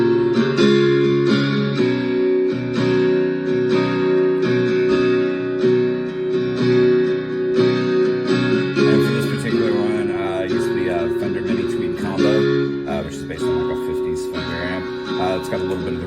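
An acoustic guitar played through an amp with reverb and a fair amount of gain, in a song mix with a steady strummed pattern and sustained harmonic tones, loud and full throughout.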